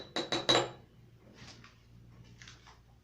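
A spoon clinks rapidly against a cup several times while stirring coconut coffee, giving a short burst of bright metallic taps, followed by quieter, softer scraping sounds.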